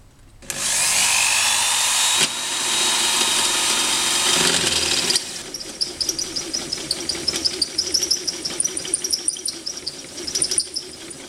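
A power drill whines loudly and steadily, shifts pitch partway through, then cuts out, leaving rattling, clicking handling noises behind.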